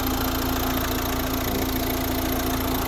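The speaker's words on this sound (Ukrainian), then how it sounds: "щоб краще було чути двигун" A 2012 Volvo V60 with a 1.6 HDi diesel engine idles steadily up close, a constant low rumble with a faint mechanical clatter and a sustained hum, no talking.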